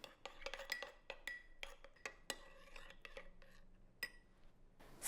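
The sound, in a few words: stirring oregano and garlic powder into pizza sauce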